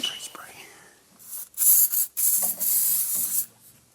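Hissing bursts from a spray can aimed at a car part, several short sprays in a row, loud and close, with quiet mechanical fiddling before them.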